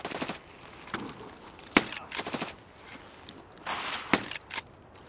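Gunfire in the video game Escape from Tarkov: several sharp shots and short bursts at irregular intervals, some loud and close, others quieter, with faint movement noise between them.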